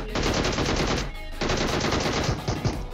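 Rapid automatic gunfire in the video game BGMI, two loud close bursts of fast repeated shots separated by a brief pause.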